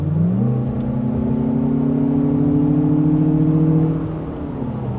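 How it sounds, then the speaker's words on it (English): Synthetic engine sound fed into the cabin of a Lexus RX500h F-Sport hybrid, a steady droning hum that swells in pitch as the car accelerates, then eases off near the end. "You guys can hear that fed-in engine noise"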